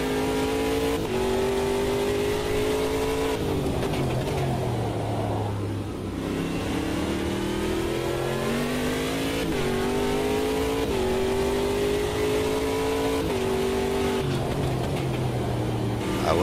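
A race car in the Automobilista 2 sim racing game, a generation-two P1 prototype, revs hard and accelerates through repeated upshifts, its engine pitch climbing and dropping with each gear change over a steady loud drone, with no talking.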